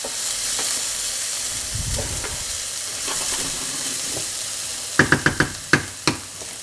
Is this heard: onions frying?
yes